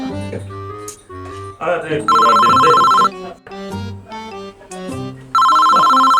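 A telephone ringtone repeats in two loud, steady bursts in a travel agency office comedy skit, with people talking over and between the rings.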